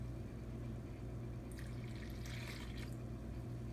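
Warm water poured into a bowl of cheese bun mix with warm milk, making a soft splashing trickle that starts partway through over a steady low kitchen hum.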